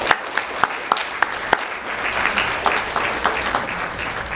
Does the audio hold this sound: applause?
yes